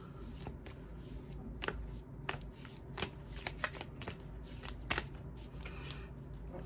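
Tarot cards being shuffled close by, a steady papery riffling with several sharper snaps and flicks, no voices.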